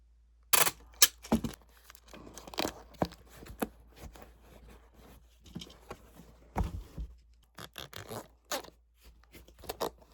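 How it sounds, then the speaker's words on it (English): Packing tape is pulled and wrapped around a cardboard shipping box, giving sharp ripping screeches and crinkly rustles in short irregular bursts, close and fairly loud against near silence. "tape this all the way around."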